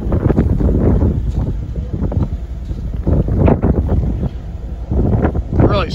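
Strong wind buffets an outdoor microphone beside a rail line, loud rumbling gusts that swell and fade in repeated bursts throughout.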